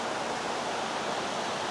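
A swollen river rushing hard near Benamahoma gives a steady, broad roar of churning water, heard up close with no voices.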